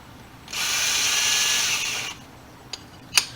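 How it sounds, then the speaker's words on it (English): A power drill with an undersized bit whirs steadily for about a second and a half at close range, then stops, followed by two brief mechanical clicks. "I need a bigger drill bit, but this is the only one I got"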